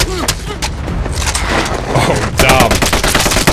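Gunfire from the war film Sisu, a dense barrage of rapid shots and bursts crackling continuously from start to finish, with a voice briefly reacting over the shooting.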